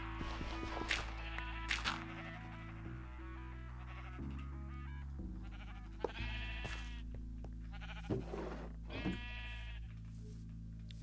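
Minecraft sheep bleat repeatedly, several distinct close bleats spaced over a steady background music drone.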